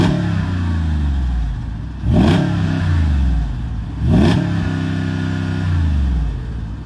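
Rezvani 6x6 off-road truck with a 6.4-liter V8 idles loudly, then revs sharply twice, each blip rising and falling back to a deep, rumbling idle, close up.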